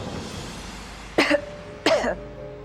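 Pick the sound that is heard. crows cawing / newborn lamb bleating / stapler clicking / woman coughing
woman coughing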